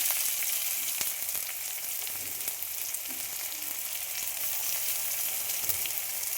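Chopped onions frying in a pan for a dish of new potatoes with green peas, an even, moderately soft hiss of sizzling oil with occasional faint ticks, no voices.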